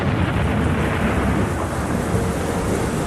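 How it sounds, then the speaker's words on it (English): A thunderstorm of great ferocity with heavy rain lashes down during an army approach march across the Agada River toward Salamanca, a dense continuous roar of rain with deep rumbling thunder throughout, loud and close with no voices. "we were hit by a storm of incredible ferocity"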